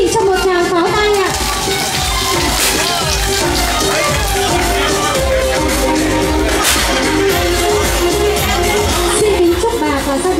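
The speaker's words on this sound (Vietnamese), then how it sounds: "Xin quý vị cho một tràng pháo tay ạ." Audience applause at an anniversary celebration for a music club, a dense, loud, continuous wash of clapping lasting throughout, with crowd noise mixed in.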